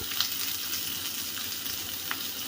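Onions tipped into a hot frying pan for masala pasta give a constant, fairly loud sizzle with a couple of faint stirring taps, and no talking.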